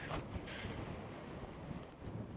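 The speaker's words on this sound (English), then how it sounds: "It is well windy" Strong wind buffets the microphone on open Dartmoor moorland, a steady loud broadband roar with gusting surges throughout and no voices.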